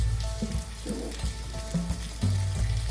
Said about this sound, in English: if you're cooking on a low flame, you can keep it for around 10 minutes on each of the sides.